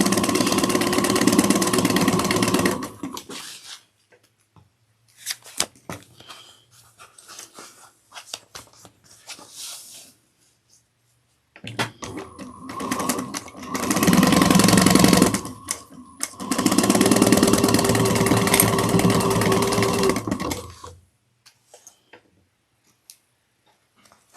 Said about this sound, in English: And now we'll sew this down. Back stitch the beginning and the end.